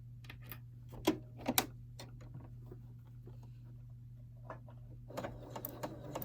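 Sewing machine stitching a fabric face mask, short bursts of quick needle patter and clicks over a steady motor hum, mostly quiet with a busier run of stitching near the end.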